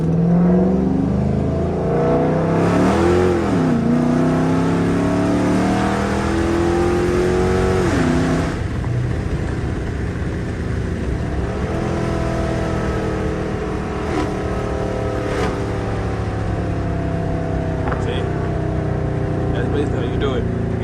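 Dodge Charger R/T engine revving loudly from close inside the car, rising and falling through several surges and shifts, with a deep steady rumble underneath throughout.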